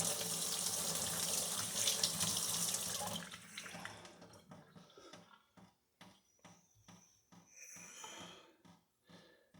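Running tap water pours steadily into a sink while a wine hydrometer is rinsed, a close splashing rush for a few seconds that then breaks into short intermittent spurts and drips as the flow is interrupted.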